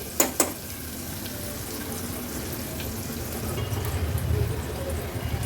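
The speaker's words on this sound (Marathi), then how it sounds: "कांदा आता मी शिजवून घेते।" Onion cooking in a little oil in a pan, a low steady sizzle close by, opened by two quick metallic clicks and growing slightly louder toward the end, with no speech.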